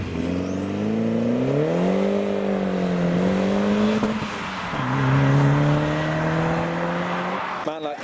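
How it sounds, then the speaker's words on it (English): A Ford Escort Cosworth pulls away over a scraped bump at a modified car meet on a farm, engine note rising and falling through the gears, fairly close and loud, with no talk over it. "now we've got the Escort Cosworth negotiating the bump, which has been scraped."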